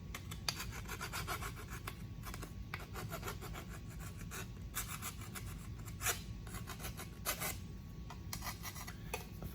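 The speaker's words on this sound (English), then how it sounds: "We're just going to touch it with a file, just a hair." A metal file rasps lightly across a car tail light panel on a Nova project, giving faint, close, irregular rubbing strokes with no talk.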